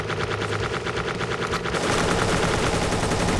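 Rapid automatic AK rifle gunfire in the video game Dungreed, a loud continuous burst of shots that grows denser and heavier partway through, with no talking.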